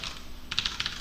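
Password typed on a computer keyboard during a Linux SSH login, a quick run of light close key clicks after a brief quiet start, ending with a slightly sharper keystroke.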